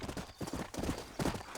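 Horse hooves clip-clop in a quick, uneven rhythm in Red Dead Redemption, close and fairly quiet, with no voices over them.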